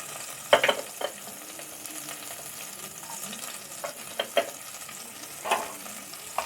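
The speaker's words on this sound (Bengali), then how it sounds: "সেই তেলেই আমি প্রথমে একটু রসুন আর একটু পেঁয়াজ ছেড়ে দিচ্ছি।" Garlic and onion fry steadily in hot oil, a continuous close crackling sizzle with a few sharper spatter pops and clinks scattered through, no talking.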